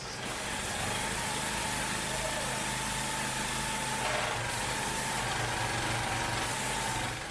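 A pressure washer engine runs steadily and continuously, a dense, even mechanical drone with no pauses that fills the whole stretch.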